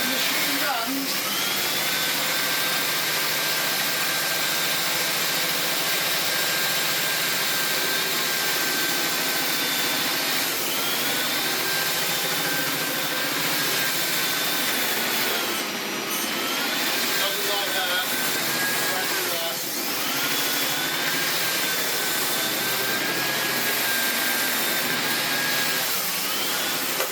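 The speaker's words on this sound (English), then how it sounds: "Yeah, it's not nice to use, but it runs and works and does vacuum stuff up." A Hoover F38PQ floor polisher and buffer runs continuously, a steady droning whine with a faint rising and falling tone, rubbing against the floor, with no talk over it.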